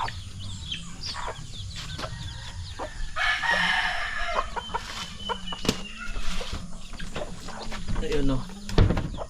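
Chickens, including hens with chicks, cluck and a rooster crows amid scattered farmyard noise at a farm, with a person talking at times nearby.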